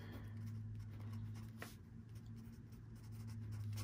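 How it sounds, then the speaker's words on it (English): A pen writes a number on paper, a soft continuous scratching close by and very quiet over a low steady hum, with no voices. "So let me write down 1270."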